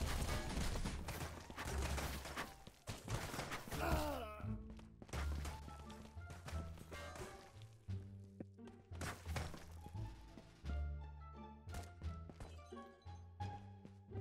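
Repeated gunshots in the VR shooter Ghosts of Tabor, sharp loud impacts in clusters with dense bursts early on, then scattered single shots and thuds mixed with game sounds and brief talk.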